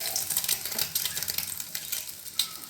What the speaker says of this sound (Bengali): ডিমগুলোকে আবার উল্টে দিয়ে আর এক পিস লাল লাল করে ভেজে নিচ্ছি